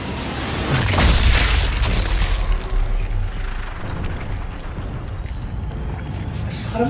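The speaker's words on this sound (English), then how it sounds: "Running around, shooting and blowing up Nazis." Loud booming explosions from a shooter video game set amid fighting Nazis, a heavy low blast swelling early and then rumbling on with scattered pops and crackles over the following seconds.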